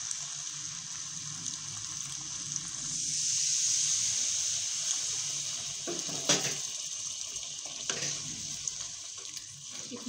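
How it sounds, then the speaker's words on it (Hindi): A glass of water is poured into a pot of simmering white chickpea and egg curry cooked dhaba style, a continuous close splashing pour with a brief surge midway and a few clinks near the end. "तो अब हम लोग इसके अंदर 1 गिलास पानी ऐड कर रही हूँ मैं"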